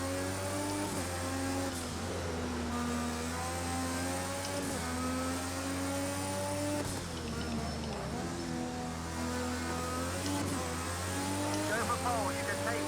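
Five LMP1 prototype race cars run at Road America in Project Cars 2, their engines droning and revving steadily and loudly throughout, with shifting pitch as they race close together.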